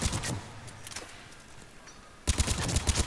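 Gunfire from a recoiling gun in Mass Effect 3: a few sharp shots up front, a quieter gap, then a fast loud burst of rapid shots near the end, with no voices.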